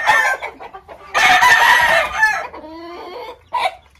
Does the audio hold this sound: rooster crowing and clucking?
yes